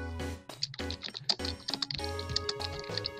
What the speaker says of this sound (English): you're typing quite loudly